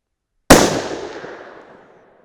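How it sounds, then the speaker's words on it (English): A single sharp 6 PPC rifle shot fired with Lapua brass handloads, a loud close crack with a ringing decay that fades over about a second and a half. "We'll just start shooting a group."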